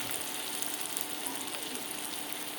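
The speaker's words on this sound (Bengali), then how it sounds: "তারপরে যত আস্তে আস্তে পেঁয়াজটা যতক্ষণ না বাদামি কালার হচ্ছে ততক্ষণ আমি নাড়তেই থাকবো" Onions fry in a pan with a steady, even sizzle that runs unbroken from start to finish, close and fairly quiet, while occasional faint scrapes hint at stirring.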